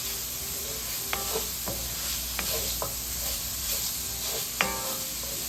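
Ground beef sizzles in a one-pot Mongolian beef ramen, with a constant frying hiss and several sharp scraping stirs of a utensil against the pot at irregular moments.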